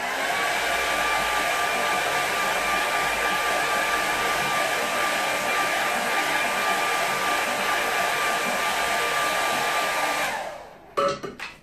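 A hair dryer blowing on a watercolour painting to quick-dry it, a loud steady whine and rushing airflow running close for about ten seconds before it cuts off with a few clunks.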